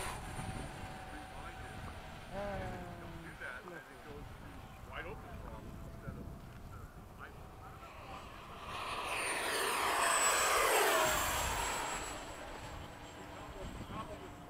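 A whining ducted-fan engine from an FMS 70mm F/A-18 model jet flying in formation swells into a loud close pass near the middle, then fades again, with people talking faintly at the start.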